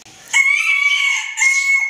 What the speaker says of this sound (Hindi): ये देखिए जी, हम गंजे मुर्गे को इधर छोड़ने लगे इस केज में।